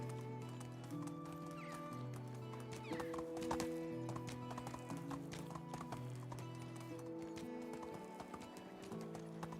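A horse gallops with rapid, steady hoofbeats and snorts in the village-building game Medieval Dynasty, over a bed of game music, with a brief voice.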